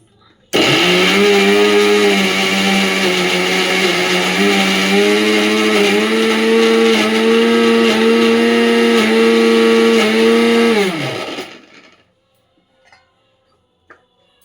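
A mixer grinder grinds coconut chutney, a loud steady motor whine that runs for about ten seconds, then winds down and stops, leaving near silence.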